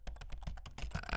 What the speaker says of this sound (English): the clacking of the keyboard seemed very loud in his ears